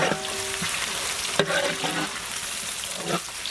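Sliced onions fry in hot oil with raw spices, giving a steady bright sizzle with a few stirring clinks and scrapes and no talk.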